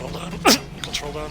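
One sharp sneeze bursts out close to the microphone, followed by a couple of quick spoken words.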